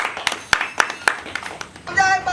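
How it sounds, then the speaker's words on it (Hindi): During a Maithili comedy skit about an engagement ceremony, a few sharp hand claps ring out in a quick rhythm among chatter and voices, ending in a muddle of sound. "माला पेराओ ताली मारो।"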